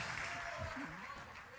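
Church congregation clapping at a Brazilian evangelical conference, a soft continuous patter of applause heard faintly behind a preacher's voice.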